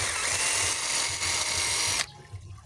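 A 28V cordless drill bores through wood at its second speed setting, a steady loud high-pitched whine that runs continuously for about two seconds and then cuts off abruptly, leaving quiet room tone.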